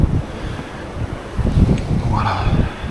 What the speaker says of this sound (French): Beaucoup de vent aussi.